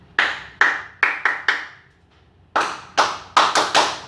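A classroom of students claps in unison in a patterned rhythm: five sharp group claps, a short pause, then six more in quick, loud succession.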